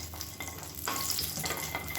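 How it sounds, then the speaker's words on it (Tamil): Cashews and kasuri methi fry in ghee over a medium flame for ghee rice, giving a steady close sizzle and crackle with a brief stirring scrape partway through and no talking. "அதனால் மீடியமான ஃப்ளேமில் பொரிய விட்டுக்கோங்க."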